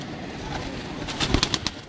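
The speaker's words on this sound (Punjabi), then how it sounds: "ਕਬੂਤਰਾਂ ਦੇ ਵਿਊ ਦਿਖਾ ਰਹੇ ਹਾਂ" Pigeons make soft cooing sounds nearby, ending in a quick run of sharp clicks and fluttery bursts.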